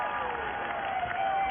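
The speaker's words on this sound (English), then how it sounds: "Mariah Lee is getting the applause." Crowd applause at a Northern Super League women's soccer match between Vancouver Rise FC and Calgary Wild FC, a steady wash of distant clapping from the stands heard under a commentator's voice.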